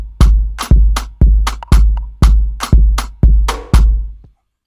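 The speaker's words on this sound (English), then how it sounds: "this is a rim with reverb" Drum rim shots drenched in reverb strike alone in a steady beat, eight loud, sharp hits each trailing off into a decaying tail before falling silent.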